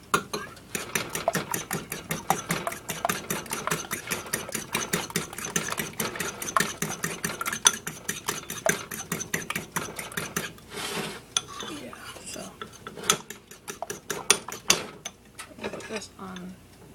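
A metal fork scrambles eggs with butter in a hot pan, making a dense, rapid run of clinking and scraping strokes that keeps up steadily and then turns sparser and choppier toward the end, close and fairly loud.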